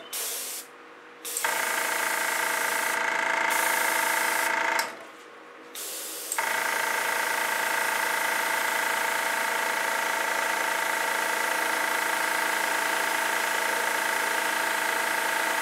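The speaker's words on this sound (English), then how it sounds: "I am going to take my airbrush and just play with this a little bit." An airbrush sprays fluid acrylic paint onto a Dutch pour painting in steady, loud hissing bursts, with two brief pauses early on before a long continuous spray runs to the end.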